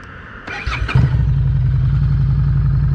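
A 2020 Harley-Davidson Street 500 motorcycle engine cranks and fires up at about half a second, then settles into a steady, close, throbbing idle with no talking over it.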